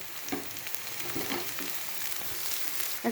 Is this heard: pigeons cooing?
no